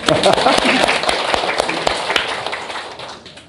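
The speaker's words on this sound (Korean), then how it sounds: "잘해라고 박수 한번 칩시다" An audience at a small health talk claps together, a steady patter of hands that carries from start to finish and slowly tapers off.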